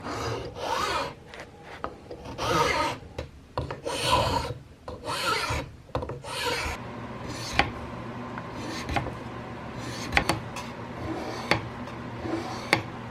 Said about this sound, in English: Come back in with the scraper, kind of look at that flat.